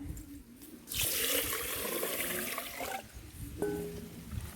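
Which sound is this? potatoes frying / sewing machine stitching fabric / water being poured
water being poured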